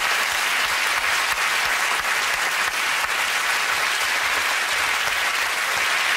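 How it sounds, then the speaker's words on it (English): A studio audience at the comedy panel show Mock the Week breaks into sustained applause, a dense, even wash of clapping that holds at a constant level for the whole stretch with no voices over it. "Give that round of applause for the Gary Delaney."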